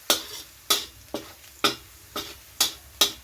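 Puffball mushrooms stirred over medium heat in a frying pan: seven sharp, regular scraping strokes about every half second, each fading quickly over a faint sizzle.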